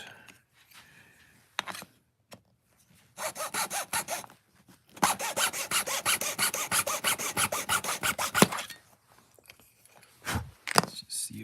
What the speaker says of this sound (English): I'm going to go ahead and cut this really quick.